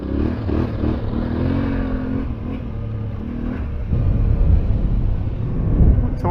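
Yamaha Tenere 700 adventure motorcycle riding on an outdoor trail ride in Queensland, a steady rumbling engine drone with rising revs and heavier throttle toward the end, heard up close over wind.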